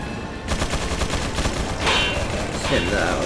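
Rapid bursts of gunfire from Resident Evil 4 crackle through the clip, dense and continuous over game noise, with a voice briefly talking.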